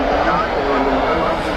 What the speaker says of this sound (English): we'll just catch the departure now of this TUI 787-9 Dreamliner